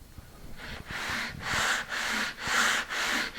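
Walnut is rubbed back and forth on 150-grit sandpaper laid flat on a beam, a close, soft rasping in about five steady strokes that grow slightly louder.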